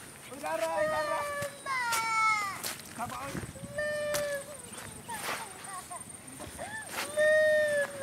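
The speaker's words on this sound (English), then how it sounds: "is a child crying for the mother." A child in the rural Philippines cries for its mother in repeated rising and falling wails, fairly close, mixed with other voices and background sounds.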